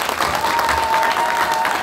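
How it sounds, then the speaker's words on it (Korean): Audience applause at a football association chairman's inauguration ceremony and football night in Ansan, steady dense clapping filling the room, loud and continuous for the short stretch, with no speech over it. "박수 한번 주세요."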